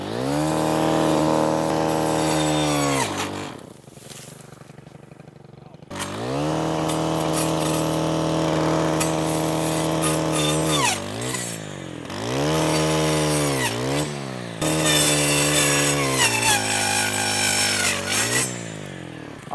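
A string trimmer fitted with a brush cutter blade bites into a hardwood trunk, its engine screaming in long, loud bursts that bog down under load and rev back up between cuts.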